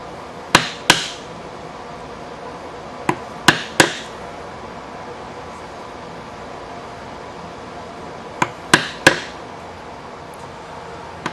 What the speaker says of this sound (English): one trick for doing a lot of this stuff is to put another piece of wood underneath this one when you clamp it down, and that will give you room to move your chisel